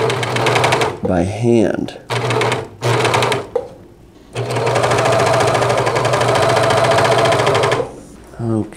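A sewing machine stitches an ironing board cover in several loud, close bursts of rapid mechanical clatter, one running several seconds, with a person talking in the pauses between runs.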